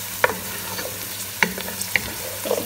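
Thyme fries in a pan with a soft continuous sizzle, broken by a few sharp clicks and scrapes of stirring, close by and with no voices.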